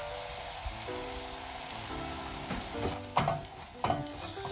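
Sautéed onions seasoned with black pepper and salt are stirred in a pan. A light sizzle runs throughout, with a few sharper scraping strokes near the end, heard close and moderately quiet with no voices.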